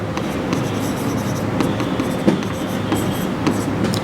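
Chalk or marker writes on a board during an accounting lesson, a run of quick scratchy strokes over a constant rumbling background hum, with no talk.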